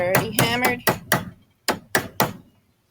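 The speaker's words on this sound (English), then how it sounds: "I start hammering the end down. Ooh, that's nice soft metal." A hammer strikes the end of a soft metal cuff bracelet, about seven sharp, close taps in two quick bursts separated by a short pause, with a brief ring after each blow.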